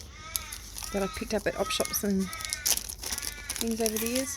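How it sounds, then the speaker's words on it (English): Birds call and squawk outdoors in repeated harsh bursts, partly under a person talking nearby. "Oh, you can hear the birds going off again."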